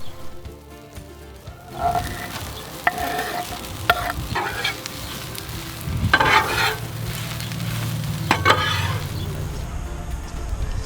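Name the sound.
bacon pieces sizzling on Blackstone griddle with Brussels sprouts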